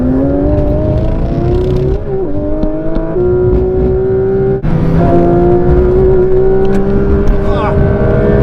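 A Porsche 992 GT3 RS engine pulls hard and loud from close range, its rising howl climbing steadily through several gears, with brief dips at each upshift before the pitch climbs again.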